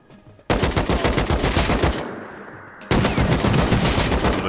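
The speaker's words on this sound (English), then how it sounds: "That's me shooting." Automatic gunfire in the video game Rust, loud and close: rapid sustained bursts, a brief lull, then another dense burst, with no talking.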